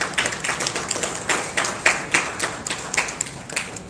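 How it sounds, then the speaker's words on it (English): Audience at the 14th Dada Saheb Phalke Film Festival award ceremony claps, a short burst of irregular, fairly close hand claps from a small crowd, steady for several seconds. "Please have a big round of applause."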